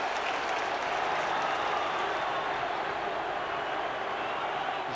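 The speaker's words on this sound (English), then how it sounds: "he encourages the crowd to applaud Wilkinson" Crowd applause at a 1996 Middlesbrough FC football match, a dense, steady roar of clapping that stays loud and unbroken throughout, with no voice over it.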